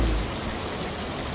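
Steady rain falls in a dense, even hiss with no pauses, loud and close, with no voices over it.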